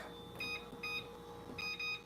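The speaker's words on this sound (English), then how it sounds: "Okay, I'm gonna put a timer on." A kitchen timer, set for twelve minutes, gives a short series of high electronic beeps in irregular bursts over quiet room sound.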